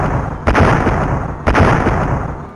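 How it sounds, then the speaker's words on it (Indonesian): Two heavy blasts in an animated fantasy battle, each a sudden loud burst at about half a second and one and a half seconds, followed by sustained thunderous rumbling that fills the gaps. "Ledakan keras dan gemuruh berulang kali terdengar di langit."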